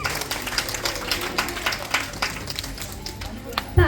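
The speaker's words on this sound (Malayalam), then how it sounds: "അപ്പൊ എല്ലാരും ജോവാനയ്ക്ക് ഒരു കൈയടി കൂടി കൊടുക്കാമോ?" Guests clap for a girl at her first holy communion, scattered hand claps in an indoor gathering with voices mixed in.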